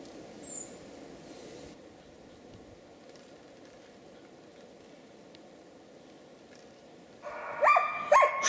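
A laika hunting dog barks during a marten hunt in the woods. Several sharp barks arrive late, close and loud, after a long stretch of quiet forest ambience.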